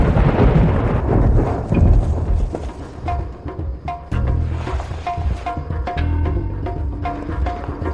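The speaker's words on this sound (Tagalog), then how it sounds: "Ginoong Cooper, umuulan ng malakas sa labas." Heavy rain pours outside during a night thunderstorm, with a loud rumble of thunder early on, then steady rain and scattered sharp drips and taps.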